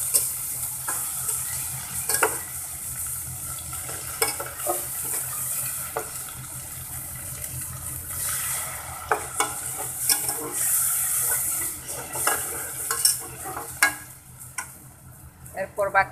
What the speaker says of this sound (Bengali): আদা রসুন পেস্ট একটু ভেজে দিব